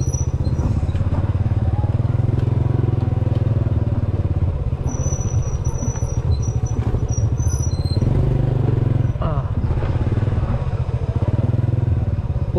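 A motorcycle rides along a wet, muddy village road, its engine droning loud and steady throughout, with clattering and squeaks from the bike as it bounces over the rough surface.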